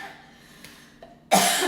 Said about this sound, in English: I got a cough, oh my goodness.